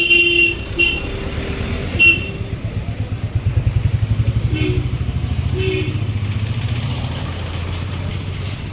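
A Honda vehicle moves through crowded evening traffic near a fair, its engine rumbling steadily throughout with a low, pulsing idle, and a few short horn toots come early in the clip.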